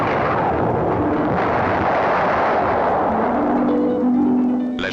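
A massive dynamite blast in a stone quarry, 4,000 kilos of explosive, with a long, rumbling roar that sustains and rolls on, heavy and loud, like rock being blown apart at a distance.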